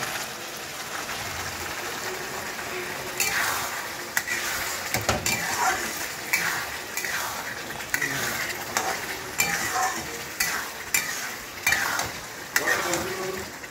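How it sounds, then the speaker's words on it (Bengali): Rice grains being fried with spices in a pan before going into a pressure cooker: a continuous sizzle broken by repeated scraping and clattering of a stirring utensil against the pan, close and fairly loud. "এই চালটাকে একটু ভাজা ভাজা করছি"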